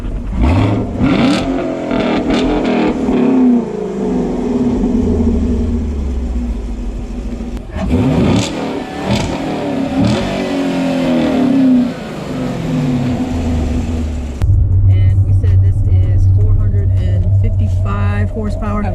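A 2020 Chevrolet Camaro 2SS V8 with a six-speed manual pulls away on a test drive. The engine rumbles and revs in rising bursts as it accelerates, then settles into a lower drone, with people talking inside the cabin.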